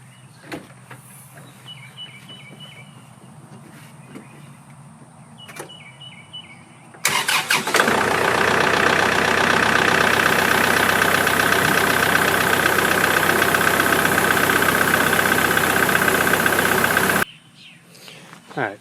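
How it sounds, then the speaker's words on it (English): An MX5400 tractor engine starts after some quiet clicks and handling noises, then runs at a steady, loud idle close by for about ten seconds before cutting off abruptly. "I let the tractor run for about 2 minutes"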